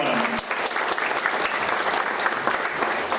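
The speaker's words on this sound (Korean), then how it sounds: "여러분 큰 박수로 환영해 주시기 바랍니다." Audience applause fills a formal political forum hall in Korea's National Assembly constitutional memorial hall, dense and steady throughout at moderate loudness, with a brief voice at the very start.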